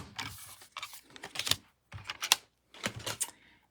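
A 3x4 paper card being cut in half with a paper trimmer, heard as a series of close, crisp slicing and clicking bursts in quick clusters with short pauses between them.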